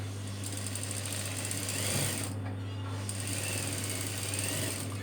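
A sewing machine stitches a nurse uniform with a steady, close mechanical whir that runs continuously throughout, briefly shifting in tone partway through.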